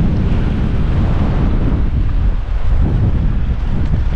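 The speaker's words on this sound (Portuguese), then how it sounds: "olha o vento, pega de cheio." Strong wind buffets the microphone at a windy outdoor spot in Japan, a loud, continuous low roar with gusty surges and no speech over it.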